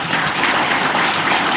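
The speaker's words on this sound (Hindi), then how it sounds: "तो एक बार अपने लिए जोरदार ताली बजाइएगा।" Loud, dense applause from a seminar audience fills the hall in a continuous clatter of many hands, with no pause and no talking over it.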